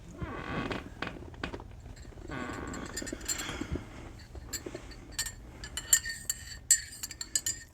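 A metal spoon stirs tea in a cup, giving light, close clinks and scraping taps against the ceramic, irregular at first and then a run of bright pings toward the end.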